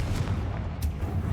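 Confringo, the explosive fire spell, is cast in a Harry Potter video game, giving a couple of short booming blasts over a steady low rumble, with no talking.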